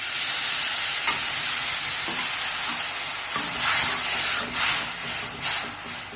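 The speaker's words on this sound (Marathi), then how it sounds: "थोडंसं पाणी घालायचं." Water is poured into spiced masala frying in a pan, setting off a loud, steady sizzle and hiss that rises into bursts of bubbling steam, with no talking.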